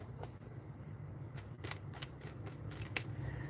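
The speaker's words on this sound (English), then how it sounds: "I'm going to shuffle one more time." Tarot cards being shuffled by hand, a run of soft riffling flicks and papery slaps over a low steady hum, fairly close and fairly quiet.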